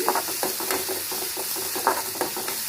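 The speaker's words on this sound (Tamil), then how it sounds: "வெங்காயத்துக்கு உப்பு போட்டு நல்லா வதக்கிட்டு" Onions sautéing with salt in a pan, a close steady sizzle broken by repeated scraping strokes of a spatula stirring at an uneven rhythm.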